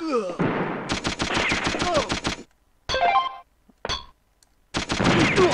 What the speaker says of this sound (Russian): Кто по мне стреляет, я не пойму